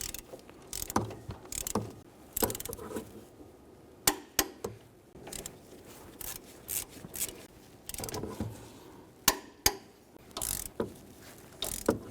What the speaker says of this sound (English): When torquing these three nuts, it is extremely critical that these go to 37 foot-pounds.